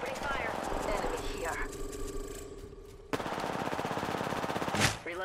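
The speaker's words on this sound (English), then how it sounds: "Opening fire." Rapid machine-gun bursts in the video game Apex Legends, a steady chattering stream of automatic fire with a sharp jump in loudness partway through, under game voice lines and background battle noise.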